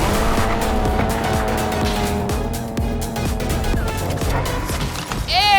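Car in Fortnite driving hard, engine revving through repeated gear shifts near and loud, tires squealing and skidding, ending in a sharp high screech.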